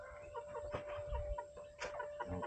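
Farm chickens cluck and chatter close by in a rural Philippine rice-field setting, several short overlapping calls with soft scratching and shuffling underneath, no talking.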